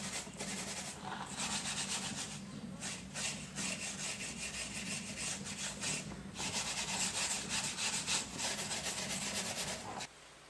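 Steady rubbing of antique leather stain into leather for a seax sheath, a continuous close scrubbing texture with brief pauses and no talk.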